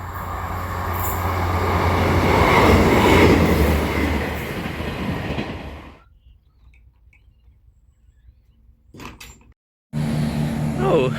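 An old London Midland passenger train unit rumbles and rattles loudly, swelling then fading away into near silence at Hykeham, followed by brief clicks and a voice speaking.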